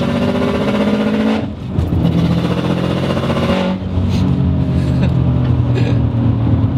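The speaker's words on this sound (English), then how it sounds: "Whenever you let off the gas, it makes this super aggressive growl, like it's almost mad at you" A turbocharged Cosworth-built Subaru Outback engine growls and burbles as the throttle is released, loud and close with rising and falling revs and a brief dip in the middle.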